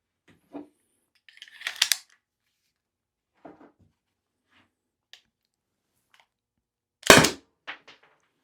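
A Byrna less-lethal launcher is reloaded, with sparse mechanical clicks and rattles, then a sharp loud snap near the end, all close in otherwise quiet surroundings.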